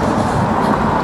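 Steady rumble of a passenger train rolling along the rails, heard from inside the carriage as a continuous, fairly loud low drone with no talk.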